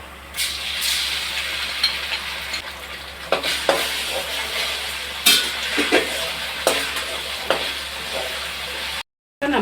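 Ginger garlic paste frying with onions in a pan for fish curry, a steady hiss of sizzling broken by repeated sharp clacks of a spoon stirring, close and fairly loud, ending in a short dropout.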